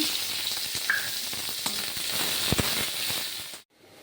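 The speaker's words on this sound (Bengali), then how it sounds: "তেলটার মধ্যে শুকনো লঙ্কা ফোড়ন দেবো যে আর ফোড়ন দেবো কালো জিরে" Dry red chillies and nigella seeds hit hot oil in a pan for a ripe pointed gourd dish, a loud continuous close sizzle with a few pops and scrapes before it cuts off abruptly near the end.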